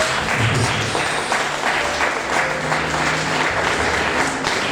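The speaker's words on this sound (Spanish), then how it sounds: "Denle un fuerte aplauso." Church congregation giving a strong round of applause after a sermon, steady dense clapping at moderate loudness with no voices over it.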